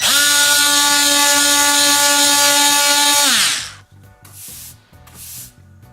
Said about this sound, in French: je vais finir les derniers petits problèmes à la petite ponceuse